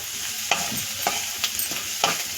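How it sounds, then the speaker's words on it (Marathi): Coriander is sautéed with spices in a hot pan under a constant sizzle, with a few scraping stirs of a spoon about every half second, close by. "ह्यामध्येच थोडीशी कोथंबीर पण टाकू आपण आणि हे परतून घेऊया"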